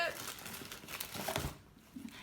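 Paper receipts and loose papers rustle and crinkle as they are handled inside a handbag, soft and close, in short irregular bursts with faint background sound.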